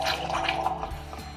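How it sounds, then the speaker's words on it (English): Milk bubbles and hisses as a De'Longhi steam wand froths it just below the surface, a close, wet gurgling with uneven spurts and a low hum from the machine underneath. "I hear a lovely bubbling sound as that milk foams."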